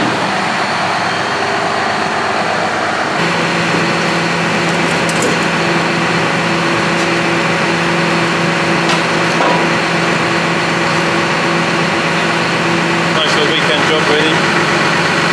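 John Deere 6155R tractor running with a 20-tonne log splitter hooked up on a farm, a steady close engine hum with sustained tonal whine and occasional knocks, while someone talks over it throughout.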